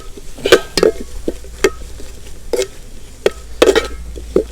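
Chili powder is stirred into hot oil, giving a soft crackling sizzle punctuated by sharp clinks and scrapes of a spoon against the pan at irregular intervals, close and alone.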